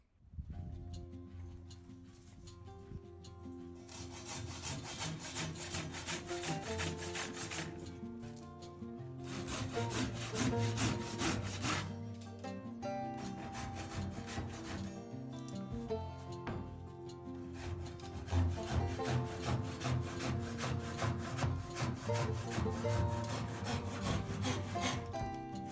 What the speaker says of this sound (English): There is an overlapping of the column and floorboards, so cut out a notch.